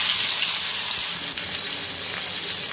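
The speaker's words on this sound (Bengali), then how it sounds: "মাছগুলো দিয়ে লাল লাল করে ভেজে নেব" Fish sizzles steadily in hot oil in a wok, a dense and loud crackling hiss that runs unbroken with no voices over it.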